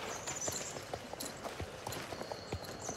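Horse hooves clip-clopping in the video game Star Stable Online, a North Swedish horse walking with a steady, close rhythm of light knocks over soft ambient game music.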